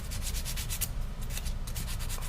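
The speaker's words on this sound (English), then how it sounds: "I think I'm just going to take a little bit of emery cloth" Rapid back-and-forth rubbing of emery cloth scrubbing surface rust off the magnetic flywheel pickup on a Husqvarna AWD mower, a close, steady rhythmic scratchy sanding with no talk.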